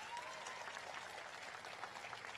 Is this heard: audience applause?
yes